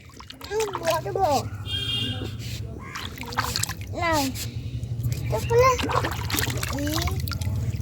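A young child playing in outdoor water sends up intermittent splashes and trickles, heard close by under frequent adult talking.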